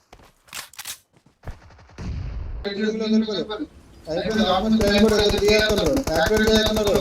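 Gunfire in the mobile battle game BGMI, with rapid bursts of shots and a quick run of automatic fire, heard under excited game music and effects while players talk over it.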